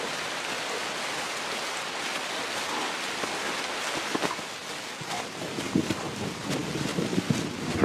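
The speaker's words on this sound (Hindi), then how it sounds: "लगभग हर दिन तेज बारिश हो रही है।" Heavy rain pours down steadily over flooded grassland, a dense continuous hiss with gusts of wind buffeting the microphone and occasional louder drops and patters toward the end.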